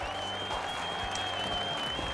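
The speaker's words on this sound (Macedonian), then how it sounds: "дали може режија аплауз?" Studio audience applause on a Macedonian talk show, a steady dense patter of many hands clapping at even loudness for about two seconds, with no talking over it.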